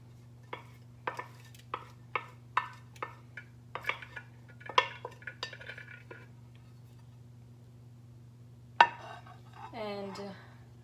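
Onion, chopped cilantro and three jalapenos tipped into a bowl, giving a run of about a dozen light taps and clatters over a steady low hum, followed by a brief louder knock and some faint rustling.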